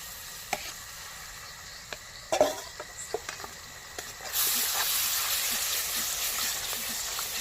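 Ginger goes into a pan of frying garlic for a village-style cauliflower roast. A few sharp clinks of a spoon come first, then a loud, dense sizzle rises and holds steady until the end.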